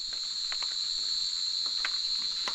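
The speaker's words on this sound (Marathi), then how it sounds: "रातकिड्यांचा आवाज यायला सुरुवात झाली" Steady high-pitched cricket chirring fills the village evening air, a continuous shrill drone with a few soft clicks and rustles underneath.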